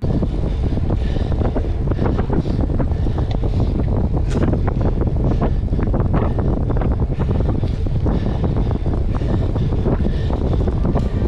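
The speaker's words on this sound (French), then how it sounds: "je vous fais écouter un peu le vent et vous allez m'entendre respirer un peu fort aussi" Strong wind buffeting the microphone during a cycling race, a constant loud roar and gusting rush that fills the whole stretch, with no talk and at most faint heavy breathing beneath it.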